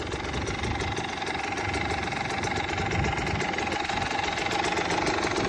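A KTM 300 TPI two-stroke engine fitted to a trike runs steadily at a buzzy, raspy pitch, close and loud, with no clear rise or fall in revs; no voices.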